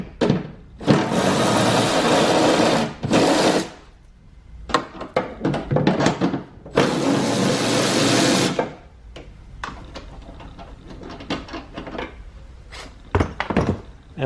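A power tool runs in several short, loud whirring bursts, loosening two 10 mm nuts on the reverse light housing of a 2005–2011 Cadillac STS, with clicks and clunks between bursts.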